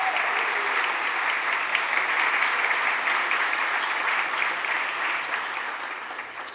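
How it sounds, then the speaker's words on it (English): Steady round of applause fills a Philadelphia City Council chamber, even and sustained crowd clapping at moderate distance that slowly fades toward the end. "Let's give her a round of applause as well."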